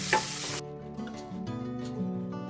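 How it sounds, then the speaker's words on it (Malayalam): Ingredients sauté in a pan until they change colour, a brief burst of sizzling up front settling into a softer, steady frying hiss, with no talking. "ഒന്ന് നല്ലതുപോലെ ഒന്ന് വഴറ്റിയെടുക്കുക അതിൻ്റെ കളറൊക്കെ ഒന്ന് മാറി വരണേ"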